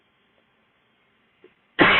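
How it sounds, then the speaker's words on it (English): A single sharp, loud cough bursts out at the very end after near silence, close to the microphone and cut off abruptly. "sorry if I keep coughing."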